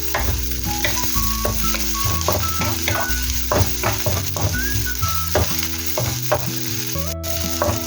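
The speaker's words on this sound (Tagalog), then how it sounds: "Halu-haluin hanggang lumabas ang aroma." Onion and garlic sautéing in a pan for a papaya and sardine dish, with a loud, close sizzle and frequent rhythmic clinks and scrapes of stirring throughout and no talking.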